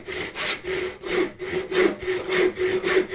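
A hand saw with a thicker plate crosscuts wood in steady back-and-forth strokes, about six rasping pulls close to the listener, with no talking.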